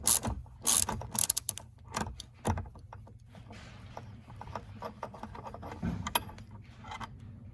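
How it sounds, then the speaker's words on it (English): A socket wrench ratchets as a 9/16 thermostatic valve fitting is twisted loose, giving quick bursts of clicking and metallic handling noises close up, with quieter rattles in between. "Always easier to use a socket wrench in this case. I'm just going to twist that out."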